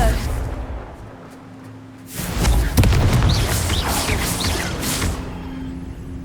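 The Confringo fire spell from Hogwarts Legacy goes off as a sudden deep boom that swells into a sustained roaring, crackling blast lasting several seconds, loud and close over the game's background ambience.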